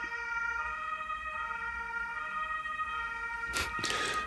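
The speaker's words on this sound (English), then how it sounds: "Sorry for the siren." An emergency vehicle siren wails steadily in the distance, its rising and falling tone continuous throughout, with a short burst of noise near the end.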